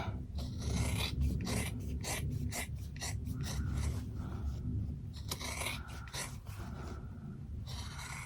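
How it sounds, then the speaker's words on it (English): Scissors cutting through quilted fabric around stitched seams, a series of close, rasping snips and slicing strokes in steady rhythm, with no voices. "I'm gonna go ahead and cut to an angle like this, then turn and just cut around"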